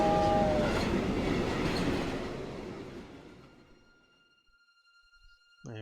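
A train in the video game Loco Motive rumbles past with a horn tone at the start, loud and close, then steadily fades into the distance before a voice briefly begins at the end.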